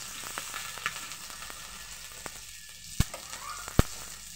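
Green chilies and grated ginger sizzle steadily in hot oil for a vegetarian brinjal dish, a soft continuous frying hiss with two sharp clicks near the end and no talking.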